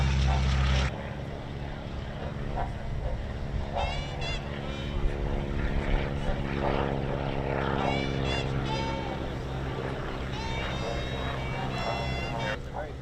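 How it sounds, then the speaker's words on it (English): A Stearman biplane makes a pass at an air show, its propeller engine droning steadily at moderate distance with rising and falling tone, while people talk nearby over it. "It's a Stearman plane, so I mean, those are biplanes that you see."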